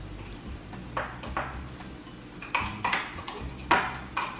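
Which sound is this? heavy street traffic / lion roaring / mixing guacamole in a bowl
mixing guacamole in a bowl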